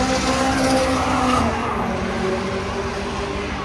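At the LESSA drag racing event in 2025, race cars roar continuously and loudly, with tyre squeal and a hint of skidding blended into the steady engine noise. No voices are heard.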